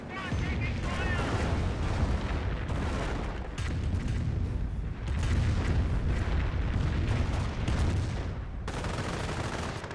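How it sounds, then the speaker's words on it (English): A Calliope rocket barrage in Company of Heroes, a dense, continuous roar of overlapping explosions and rapid launches rolling on for the full length, loud and unbroken apart from brief dips. "Here comes a Calliope rocket barrage."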